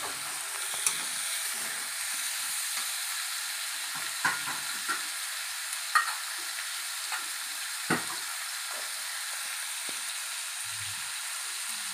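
Food being stirred in a pan after salt goes in, with a steady faint sizzle and hiss and scattered soft scraping clicks of the spoon against the pan.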